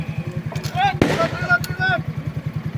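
Rapid, evenly spaced gunfire pops during a police shooting drill rattle on throughout, with loud voices shouting commands over the shots.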